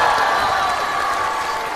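Studio audience applause for twenty-three comedy show performers at a season finale, a loud sustained wash of clapping with faint crowd murmur.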